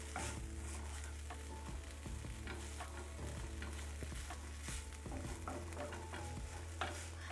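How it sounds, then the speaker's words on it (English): Garlic and onions sizzle in a pan while being stirred, a steady close frying hiss broken by scattered scraping and clinking stir strokes, with no talk. "I hear it sizzling a little bit"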